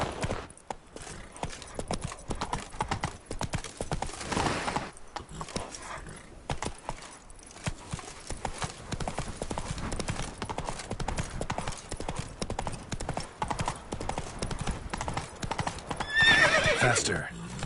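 Horse galloping in The Witcher 3 on PS5, steady rapid hoofbeats running throughout at close range with a neigh near the end, while someone speaks over it.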